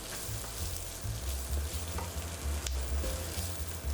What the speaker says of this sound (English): Add more oil, then our onion.